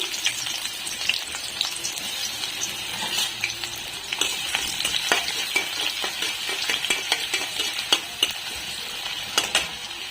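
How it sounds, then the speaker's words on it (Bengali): Steady crackling sizzle of onions frying in hot oil in a wok, with scattered sharp pops and spatters throughout, close and continuous. "তো এখন আমি কড়াই বসে মতন তেল দিয়ে দিলাম, তারপর পেঁয়াজ কুচিটা দিয়ে দিলাম"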